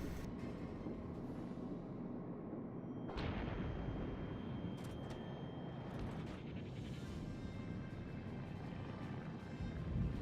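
Naval artillery in World of Warships, with a heavy booming salvo around three seconds into a steady rumbling game soundscape, followed by sharper cracks and lingering low roar, no talk.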